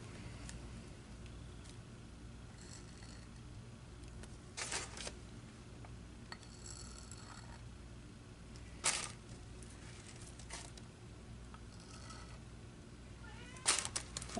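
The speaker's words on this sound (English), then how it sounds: "There's my kitty." A cat meows indoors, a few faint, short cries spaced across a quiet room with a low background hum.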